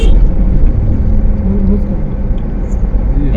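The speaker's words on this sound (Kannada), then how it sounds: "ಅಲ್ಲಿ ಬರ್ತಾ ಇದೆ ಗಾಡಿ" A vehicle's engine rumbles steadily on a mountain road on the way to Kedarnath, a continuous low drone that swells slightly as it draws closer, with voices talking over it.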